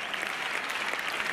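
Dense, steady applause from a studio audience at a Spanish TV game show fills the whole stretch, close and continuous, with no voices rising above it.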